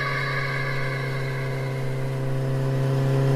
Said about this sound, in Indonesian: Loh, kok bisnya nggak berhenti?